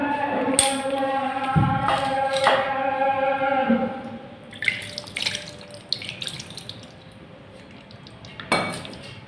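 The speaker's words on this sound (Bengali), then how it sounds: "3-4 টেবিল চামচ পানি দিয়ে দেব।" Water is poured over spiced beef in a pressure cooker, a short splash mixed with clinks and clatters of the metal pot and utensils, then lighter knocks as it settles.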